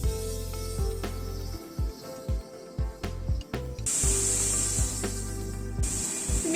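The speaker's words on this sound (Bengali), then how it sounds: "তেলটা গরম হয়ে এসছে, চিংড়ি মাছটা দিয়ে দিচ্ছি। চিংড়ি মাছটা হালকা করে একটুখানি সতে করে নিচ্ছি।" Prawns hit hot oil in a pan and sauté with a quiet, intermittent spitting hiss, broken by soft scrapes and knocks of stirring over a low steady hum.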